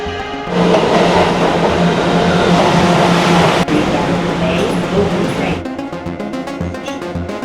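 A subway train roars loudly along the tracks, a dense rumbling rush that ends abruptly, leaving a quieter hum and faint ringing tones afterward.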